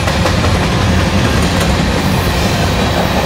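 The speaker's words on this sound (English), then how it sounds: "Locomotives went by right when it was given the number" A northbound Norfolk Southern freight train rolls past in Glendale, a loud, close, continuous roar of wheels and cars with rhythmic clickety-clack over the rails and no talking.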